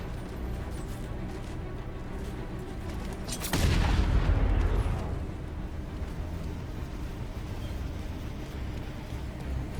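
A single heavy gunshot from thugs in the video game Batman Arkham Knight, a sharp loud boom with a rumbling tail that fades over about a second, set against quiet ambient background.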